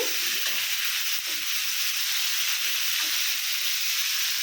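Bitter gourd fries in a pan, giving a loud, dense, continuous sizzle with faint stirring knocks underneath.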